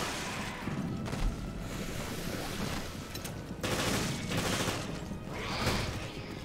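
Rapid bursts of gunfire in the survival horror game Resident Evil: Revelations, loud and sustained, with shots rolling into one another at a slow, uneven rate and layered over a thick, noisy game soundtrack.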